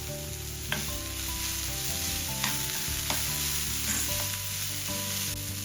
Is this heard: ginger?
yes